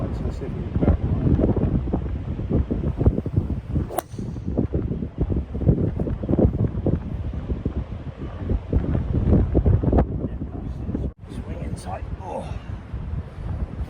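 Gusty wind buffeting the microphone on a golf course tee at sunrise, with rough low-pitched rumbling that rises and falls in bursts, loud and close, and someone talking at times.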